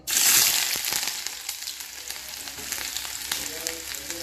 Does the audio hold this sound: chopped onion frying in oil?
yes